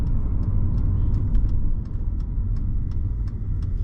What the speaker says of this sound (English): had this car idling for a little bit while I was shooting some pictures, so we're up to operating temperature.